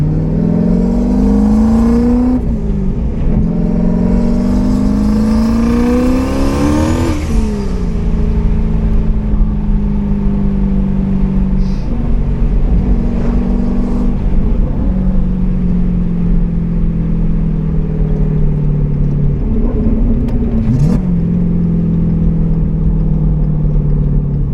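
Single-turbo 800whp stick-shift Ford Mustang 5.0 pulling hard, engine note climbing in loud sustained sweeps with a brief drop between gears, then holding a steady high drone throughout.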